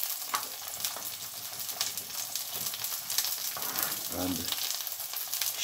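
Smoked haddock fillet pan-frying in olive oil with garlic, a steady crackling sizzle with scattered pops and a brief scrape of stirring, close by, with a faint voice speaking over it.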